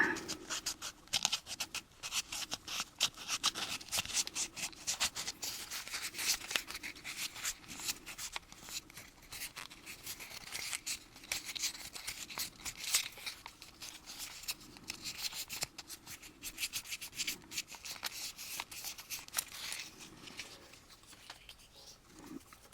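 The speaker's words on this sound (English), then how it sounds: "Now let's just give her a little nice sandpaper." Sandpaper rubbed by hand over a skull head ghost box, giving continuous rapid scratchy back-and-forth strokes, fairly close and moderately quiet, with a brief pause toward the end.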